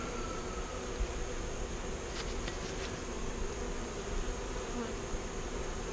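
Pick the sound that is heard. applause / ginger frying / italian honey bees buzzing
italian honey bees buzzing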